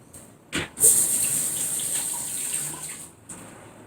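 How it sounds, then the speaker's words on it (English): Tap water running while garden leaves are washed, a close gushing stream that starts after a couple of short splashes, runs steadily for a few seconds, then stops. "Let's go and wash this off."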